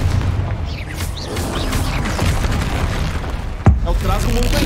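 A Confringo explosion spell bursts with a single sharp, loud blast amid ongoing combat noise in the Hogwarts Legacy video game, while voices talk over the scene.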